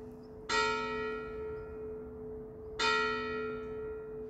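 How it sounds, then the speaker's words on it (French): Two ringing strikes of a church bell, about two seconds apart, each bloom into a long, rich, humming tone that slowly fades in quiet surroundings. "il y a les cloches, on entend les cloches"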